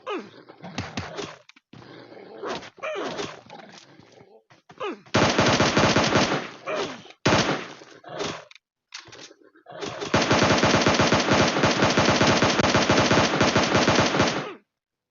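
Automatic weapons fire in a mobile shooter game, recorded straight from a smartphone screen; scattered single shots give way to long, dense, loud machine-gun bursts with short gaps between.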